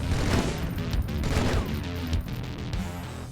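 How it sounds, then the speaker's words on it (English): Gunfire from Halo 2: a dense, loud burst of shots and impacts lasting throughout, with sharp transients over a busy game soundscape. "Now we gotta shoot this player through the wall."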